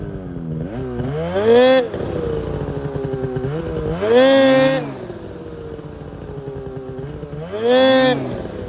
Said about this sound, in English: start it and go wide open and try to lift it up while throttling